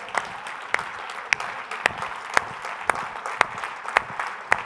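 Congregation in a church service keeping time with steady rhythmic clapping, sharp regular claps roughly twice per second over a busy crowd background, fairly close and even throughout.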